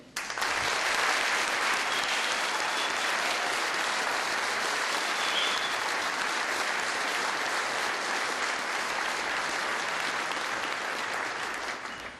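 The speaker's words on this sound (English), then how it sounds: "please help me applaud the class of 2008" Graduation audience at a 2008 University of Oregon economics ceremony applauding, a dense, sustained wash of clapping from a large crowd lasting about twelve seconds before tapering slightly at the end.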